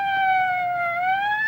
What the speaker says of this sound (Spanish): ¿Tú escuchas la sirena?